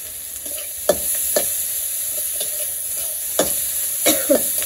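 Onions frying in a pan, with a steady sizzle throughout and a few sharp stirring scrapes and clinks of a utensil scattered across the clip.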